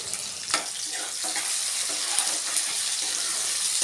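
Cumin seeds crackle in two tablespoons of hot oil in a pan on the stove, a steady close hiss with a few sharp pops near the start, with no voices over it.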